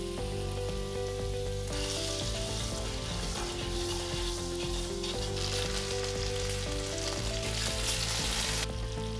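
Frozen porcini mushrooms sautéing in butter with garlic make a loud, steady sizzle that swells in bursts, layered over a constant tonal hum from kitchen equipment.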